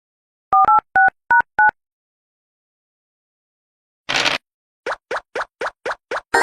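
Telephone keypad dialing a call: five distinct dual-tone beeps in a quick even sequence, then a burst of noise and a run of short repeating ringback-like pulses, all alone without talk.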